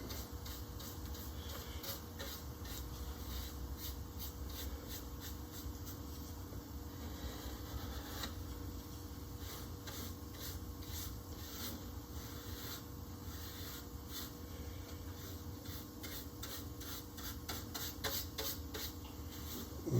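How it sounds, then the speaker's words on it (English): A brush spreads shellac sealer over wood on a guitar binding job, a soft, continuous faint scraping with regular light strokes, close and quiet with no talk. "That's why I'm brushing in a weird way like this, trying not to go back across that edge."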